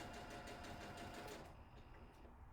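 A sewing machine stitches fabric guided along a cloth guide, a quick, close, rapid mechanical whir that runs for about a second and a half, then stops, leaving faint room noise.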